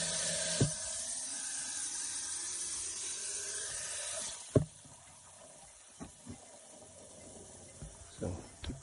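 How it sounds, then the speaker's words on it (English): Water running from a pump drawing on a tank near horse foals, a broad steady hiss that drops abruptly as the flow is turned down, leaving a softer stream with scattered knocks and clatters. "So it's still running water, just not running as much."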